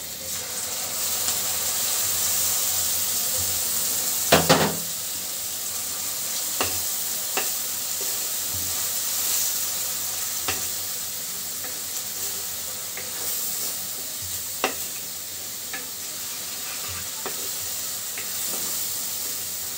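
Spice paste frying in hot oil with fried onion and chilli for a Bengali vegetable dish, a steady close sizzle broken by occasional sharp clinks of a spatula stirring the pan.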